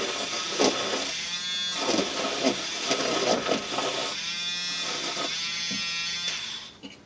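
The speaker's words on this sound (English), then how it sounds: "just let the butter find the whisk" An electric whisk whirs steadily in a cup of coffee with butter, a constant close buzzing drone that wavers in pitch as it froths, then cuts off at the end.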